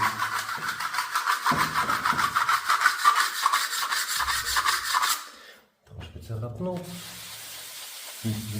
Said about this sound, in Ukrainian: Беремо кельму і наглянцьовуємо.